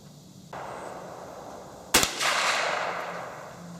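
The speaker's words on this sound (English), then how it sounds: "you just shot another group the size of a quarter" One sharp rifle shot cracks out at a target range, close and loud, with rumbling background noise before and a reverberant tail after.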